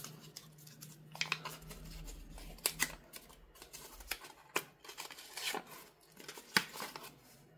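A sublimated MDF keyring disk is unwrapped by hand after pressing, making faint, close crinkles, tears and rustles in irregular bursts with quiet pauses between them.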